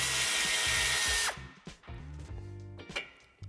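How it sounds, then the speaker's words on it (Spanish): A power tool removes the nut holding the antenna on a 2018–2020 Volkswagen Golf VII Sportsvan. A loud, close whirring drill runs steadily, then stops abruptly, followed by brief metallic clicks and ticks. "Quitaremos la tuerca que la sujeta."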